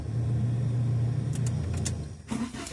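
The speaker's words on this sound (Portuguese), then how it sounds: "Aí o Brendo vai e liga o carro, ó." A car engine starts during a driving lesson, then settles into a steady low idling hum, close and continuous, with a few faint clicks before the level drops briefly and picks up again.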